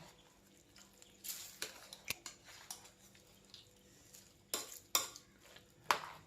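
Cooked tapioca, chopped chilli and tempering being kneaded together by hand in a bowl: quiet, irregular squelches and soft clicks, some sharper taps spaced a second or so apart.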